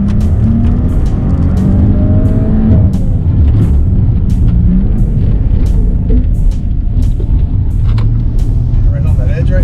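A 406-horsepower car engine under spirited driving, a loud, steady low rumble with rising and falling pitch as the car is pushed hard, heard continuously up close.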